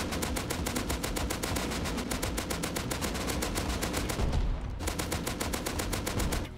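Kalashnikov rifle fire in the survival game Rust, a loud, fast sustained automatic burst of evenly spaced shots running almost without pause, briefly broken near the end before the firing resumes.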